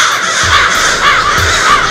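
Crows caw loudly and close, a continuous overlapping chorus of harsh, repeated calls with no talking.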